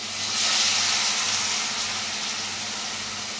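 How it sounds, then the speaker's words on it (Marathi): Masala-coated fish frying in hot oil gives a loud, steady broadband hiss that swells early and holds evenly to the end, with no talking. "आता ही फिश आपण मसाल्यामध्ये, इकडे मसाला जो रेडी केलेला आहे त्यात आपण बुडवणार आहे आणि ही तेलामध्ये घालणार"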